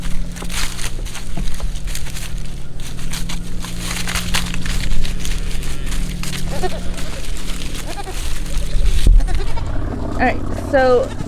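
Young goat kids bleating in brief, high calls toward the end, amid a steady outdoor rumble and people talking.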